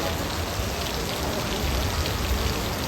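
Steady rain falls across an outdoor site in Apiatse, a dense, even hiss of drops on surfaces that holds at the same loudness throughout, with no voices.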